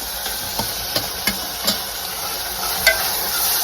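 Onions and tomatoes fry in a pan for a village-style Gujarati stuffed brinjal curry. A steady sizzle runs under a few soft, irregular spoon scrapes and taps, close by, with no talking.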